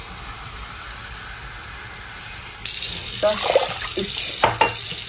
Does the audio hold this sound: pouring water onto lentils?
yes